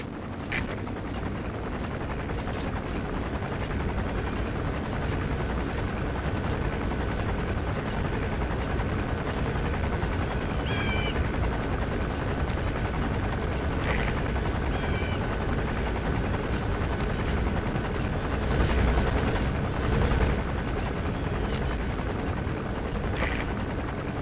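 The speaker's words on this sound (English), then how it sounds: "There's a chopper landing." In Metal Gear Solid V, a chopper comes in to land, its dense rotor thump and engine roar droning on continuously, with a few sharp bangs and clanks breaking through the noise.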